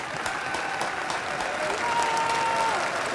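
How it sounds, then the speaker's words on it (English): A TV show audience applauds warmly, a dense, steady wash of clapping from a whole room that holds at an even level throughout, with a faint tone gliding briefly in the background. "who are you clapping for?"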